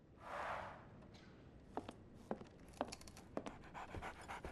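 Dog in the video game Sherlock Holmes The Awakened panting quietly, a soft breathy burst followed by a run of quick, rhythmic huffs, close and alone without talk.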